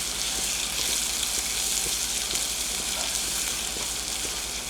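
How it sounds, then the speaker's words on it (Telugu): Finely chopped garlic frying in a hot cast iron kadai for a capsicum and curd curry, a steady broadband sizzle that holds evenly throughout, close and alone without any voices. "వేయగానే వేగిపోతుంది చూసారా వేడికి."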